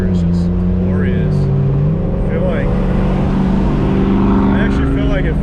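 A BMW E36 with a swapped S54 inline-six drives along, its engine droning steadily and loudly from inside the cabin with rising and falling pitch, while people talk over it.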